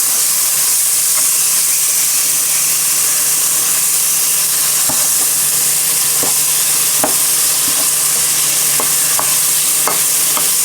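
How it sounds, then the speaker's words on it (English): Vegetables for chicken soup sauté in a pan with a steady, close sizzle and hiss, punctuated by occasional scraping stirs, with no talking. "Saute it."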